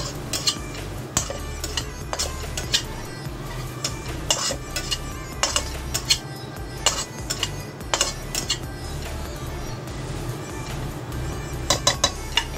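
Metal utensil scraping and clinking against a pan while bitter gourd and egg are stirred together, steady close-up clatter with sharp repeated clinks throughout and no voices.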